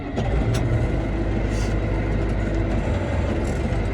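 A diesel farm tractor engine runs at a steady idle, close and loud, with a constant low rumble that continues throughout with no voices.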